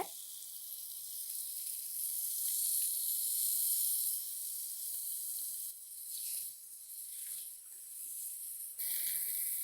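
Cheesy chicken pieces sizzle in a pan with a little oil, a steady bright hiss that swells and dips as pieces are moved, with no talking.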